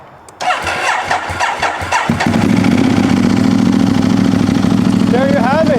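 A Ducati 1098 motorcycle with an Akrapovic or Termignoni exhaust cranks and fires up nearby, settling into a loud, steady, throbbing idle that runs to the end, with a voice briefly heard over it.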